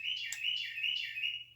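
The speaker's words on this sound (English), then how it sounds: "Shut up, bird." A bird chirps and tweets continuously in a rapid, bright warbling song, fairly close and steady, with a faint low hum underneath and no talking.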